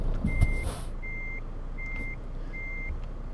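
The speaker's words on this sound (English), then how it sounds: "This truck is so big that it barely makes the turns." A big truck in Euro Truck Simulator 2 reverses, its backup alarm sounding four evenly spaced, steady beeps over a low continuous engine rumble, with a couple of soft knocks at the start and no talking.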